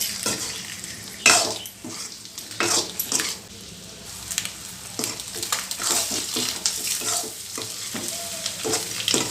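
Boiled eggs frying in oil in a pan for a garlic egg roast: close, continuous sizzling with frequent scraping and clinking as a utensil stirs against the pan.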